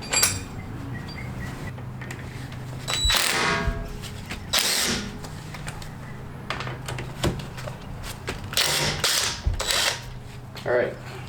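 Torx T40 bolts being loosened and removed from a Ford Fusion brake assembly, heard as a series of sharp clicks, ratcheting bursts and metallic knocks at close range with brief pauses in between.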